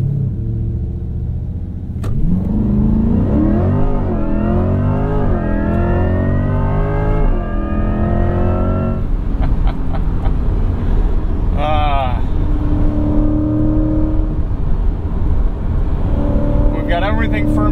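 A 2024 Chevrolet Corvette E-Ray launching hard, engine rising in pitch through a steep acceleration run, loud and close, with someone speaking over the engine throughout.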